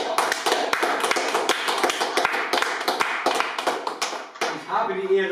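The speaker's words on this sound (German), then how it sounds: "Ein Applaus dafür." A small crowd applauds with quick, dense clapping for several seconds. The clapping thins out as a voice begins speaking at the end.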